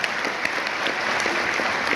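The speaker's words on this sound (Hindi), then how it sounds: "एक बार ताली जरूर चाहूंगा ऐसे व्यक्ति के लिए।" An audience claps steadily and densely through the whole stretch, a sustained wash of applause at a seminar honoring a guest, with no voices rising above it.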